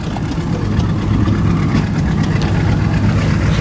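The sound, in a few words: antique John Deere tractor engine running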